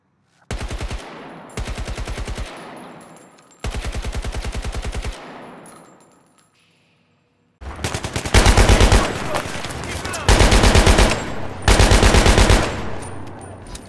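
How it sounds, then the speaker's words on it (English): Automatic weapons from the video game Battlefield 2042 and older Battlefield games fire in loud, close bursts of rapid gunfire separated by brief pauses, with the later bursts heavier and louder, and no talking. "shooting some guns from Battlefield 2042 and then showing you some older Battlefield guns that sound a bit different but way better"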